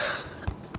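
A single short cough, fairly close, followed by a quiet pause and a sharp burst of noise at the end.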